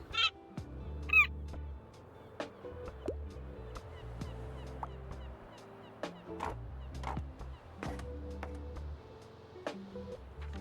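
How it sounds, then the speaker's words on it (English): A seagull calling in the cozy video game Tiny Bookshop, sharp squawking cries near the start over gentle plucked background music with soft clicks, moderately faint. "I think this is the seagull it was saying"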